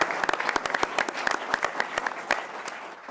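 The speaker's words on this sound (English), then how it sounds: "Let's give a round of applause for that great success." Audience applause at an awards announcement: a steady burst of many hands clapping, fairly close and lively throughout, with sharp individual claps standing out and no talk over it.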